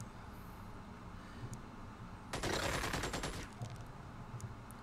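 A short burst of gunfire from a soldier's weapon in the turn-based strategy game Xenonauts 2, about a second of rapid, loud shots that stands out sharply over quiet background ambience.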